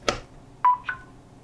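A phone placed on an 8-port Qi wireless charging station gives a short electronic chirp, then two brief clear beeps in quick succession, close and isolated in a quiet room.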